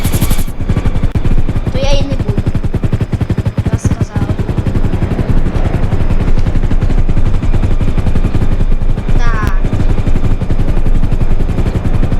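A helicopter's rotor chops steadily and loudly throughout, a dense rapid thudding that stays close and constant, with faint voices briefly heard underneath.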